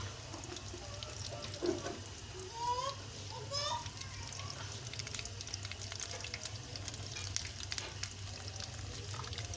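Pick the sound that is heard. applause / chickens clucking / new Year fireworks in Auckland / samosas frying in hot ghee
samosas frying in hot ghee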